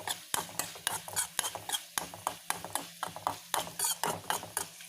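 A spoon stirs mango pulissery mixed with fenugreek powder in a pot, producing quick, regular scraping strokes, two or three each second, close and clear with no voices.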